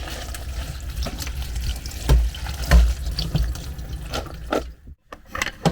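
Tap water runs into a sink while red beans are washed, a steady splashing stream with a few thuds and clatters before it cuts off briefly near the end.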